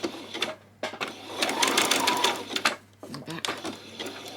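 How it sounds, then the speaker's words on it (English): A sewing machine stitches a zigzag on a peasant top for a kids' pattern, with rapid mechanical clattering bursts that start and stop, close and clear, with a voice speaking briefly in the gaps. "Turn it to your zigzag stitch."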